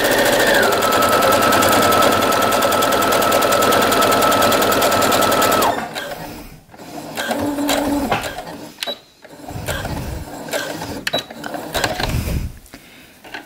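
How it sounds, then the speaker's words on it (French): A sewing machine runs steadily for about six seconds, stitching a straight topstitch with a guide blade, then stops, leaving only faint handling clicks and rustles. "Je vais coudre ma petite surpiqûre en m'aidant de la petite lame de guidage."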